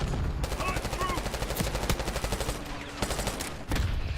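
Rapid gunfire in a first-person shooter game, dense bursts of automatic shots packed close together and loud throughout, with a few louder single cracks and game voice cues underneath.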